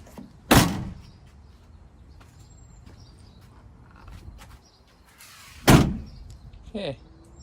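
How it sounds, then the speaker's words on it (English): The sliding door of a Sprinter RV van fitted with a customized bug screen is closed twice, each time ending in a sharp, loud thud, with quiet rustling and movement in between. "let's try closing the door"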